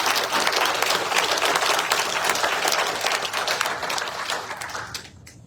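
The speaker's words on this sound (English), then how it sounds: "Let's give those folks a round of applause and appreciation." An audience at an energy cooperative's annual meeting applauding, a dense close clapping wash that holds steady and then tapers off at the end.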